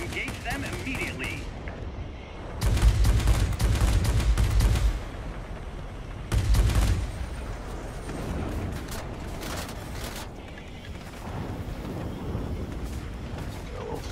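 Machine-gun fire in the World of Warplanes flight combat game, aboard a German Focke-Wulf Ta 183 Huckebein jet, with two loud rattling bursts over a constant engine roar, the second shorter, and a trailing rumble afterward.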